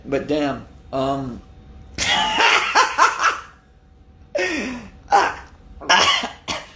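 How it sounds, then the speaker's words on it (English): A man clears his throat with a few harsh, guttural bursts, then keeps talking close up. "let me clear my throat"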